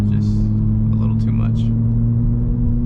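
BMW G82 M4 with its S58 engine and Valvetronic exhaust idling, a loud steady low drone with a deep even rumble and no revving, a few faint voices talking over it.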